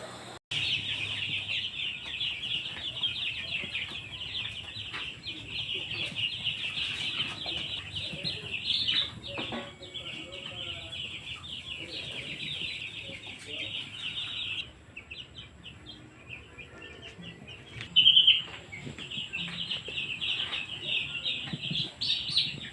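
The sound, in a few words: chicks in a brooding pen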